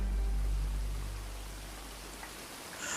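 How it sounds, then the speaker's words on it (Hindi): Steady light rain as background ambience in a Hindi horror audio story, a continuous soft hiss of falling drops with a low rumble that fades slightly before a faint patter near the end. "उस दिन सुबह से ही हल्की बारिश हो रही थी।"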